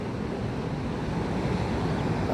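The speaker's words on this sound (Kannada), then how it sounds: "ಹಾಗೆ ಗೋಕರ್ಣ ಸಮುದ್ರ" Sea surf rolling onto the beach at Gokarna, a steady loud wash of breaking waves with wind noise on the microphone, continuous throughout with no voices.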